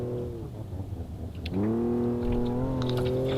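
Car engine in the BeamNG Drive racing game idling, then revving up on its own with a rising, steady drone, loud and close, with a few faint clicks over it.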